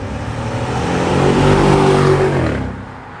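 A car engine revving with a throaty exhaust note, close and loud, rising to a sustained peak before easing off.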